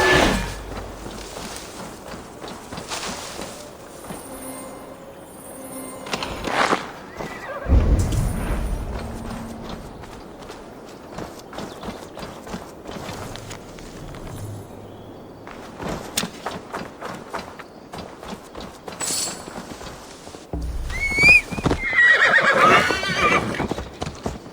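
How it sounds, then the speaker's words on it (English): Horse neighs and hooves clip-clop in Assassin's Creed Valhalla, with whinnies and walking hoofbeats spread across the stretch amid game ambience and scattered thuds. "Now to deliver Magni his horse."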